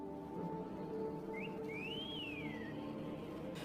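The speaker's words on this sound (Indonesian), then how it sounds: "Jeremy dikagetkan dengan suara siulan yang begitu kencang." A single loud whistle in a forest rises, glides up and then falls away, heard over a steady background hum.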